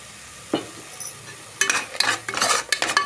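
Ground tomato paste going into a hot pan for an egg palak rice masala, with soft sizzling and a few scraping stirs of a utensil that grow busier toward the end.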